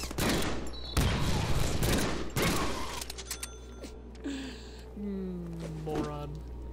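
Gunfire from the Deadpool video game: a few sharp, loud shot bursts in the first few seconds, then fading into game effects and tones, with a voice talking over it.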